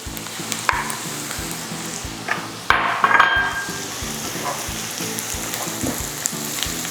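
Sun-dried tomatoes and browning garlic sautéing in a pan for a creamy Tuscan salmon, a steady close sizzle with a louder burst as the tomatoes go in, then continuous crackling under light stirring.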